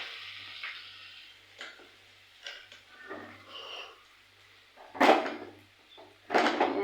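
Potato frying slowly in oil over a low flame gives a soft, steady sizzle, broken by a few scraping stirs and a couple of louder clattering bursts near the end.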